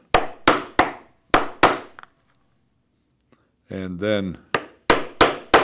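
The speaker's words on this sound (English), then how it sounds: "I will punch some 1/8 holes to fasten the hold down straps" Sharp hammer blows strike a leather hole punch for a bike handlebar bag, landing in a quick group of four, then a pause and a short spoken phrase, followed by three more crisp, close strikes.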